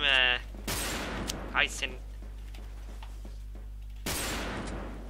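Gunfire in the online shooter Wolfteam: two loud broadband bursts, one opening the clip and another near the end, with a short burst between them, under a steady low hum and a man's speech.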